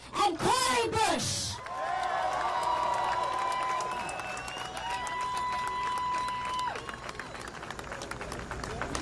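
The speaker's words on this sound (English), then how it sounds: "join me, please, in giving a warm round of applause to Congresspeople Rashida Tlaib and Cori Bush" A crowd at a ceasefire rally bursts into applause and cheering, loud at first with whistles and shouts, then settling into sustained clapping and crowd noise.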